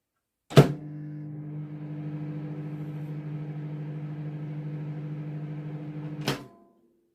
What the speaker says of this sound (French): Moi, je danse sur le rythme du micro-ondes.